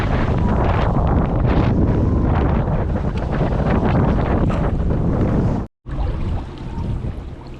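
Strong wind buffets the microphone outdoors on a mudlarking shore, a loud continuous rumbling roar that cuts out abruptly for a moment near the end before resuming a little softer.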